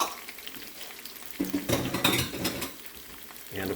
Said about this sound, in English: we're going to drop the onions right in